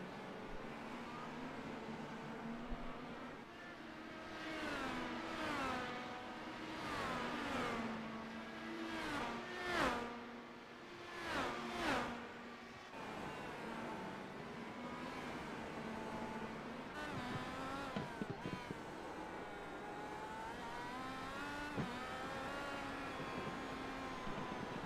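IndyCar race cars accelerate through a street circuit turn at the Detroit Grand Prix, engines rising and falling in pitch through repeated gear changes as several cars pass close by, then fade with a distant whine.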